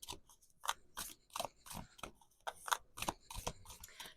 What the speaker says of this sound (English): These cards don't really want to shuffle.